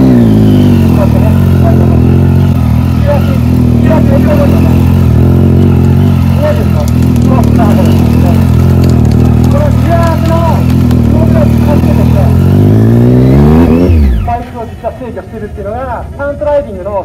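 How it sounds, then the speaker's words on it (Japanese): At a 2023 stunt show at Ibaraki Airport, a stunt motorcycle holds a steady, loud, buzzing high idle while the rider controls its speed with the rear brake. The engine swells and wavers, then drops away near the end. Someone talks over it throughout. "高いアイドリングを右足のね、このギアブレーキの操作で加速をコントロールして"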